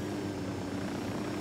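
A helicopter landing in the video game Ghost Recon Wildlands, a continuous loud rotor and engine drone with steady chopping, close and unbroken throughout with no talk.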